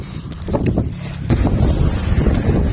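Strong wind buffets the microphone of a runner out on a run, a loud, continuous roaring rumble that swells and gusts throughout, with no other clear sounds.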